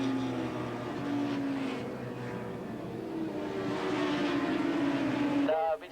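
Stock 750cc production motorcycles, including Yamahas and Suzukis, race at Willow Springs International Raceway in 1986, their engines a steady, droning whine that rises and falls in pitch, with a voice talking over it.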